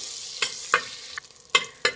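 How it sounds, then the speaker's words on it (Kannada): A few sharp scrapes and clinks of a utensil against a pressure cooker, spaced irregularly, with a soft sizzle of melting butter beneath; no talking. "ಒಂದು ತ್ರೀ ಟೇಬಲ್ ಸ್ಪೂನ್ ಆಗೋಷ್ಟು ಬೆಣ್ಣೆ ಹಾಕಿದ್ದೀನಿ ಬೆಣ್ಣೆ ಇದು ಕರಗಲಿ"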